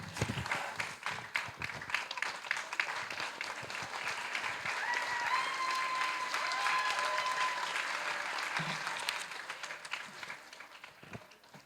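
Audience at a Tamil school graduation ceremony gives sustained applause, a dense steady wash of many hands clapping that swells slightly in the middle and tapers at the end.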